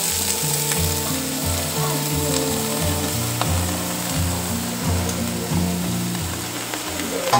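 Onion frying in oil for a raw jackfruit curry, with a steady close sizzle and hiss in the pan under a background of repeating musical tones, no talking.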